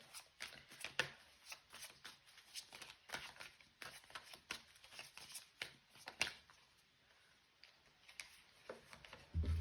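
Tarot cards are shuffled and pulled, giving a quiet run of soft, irregular flicks and taps that continues throughout, close by and faint, with no talking.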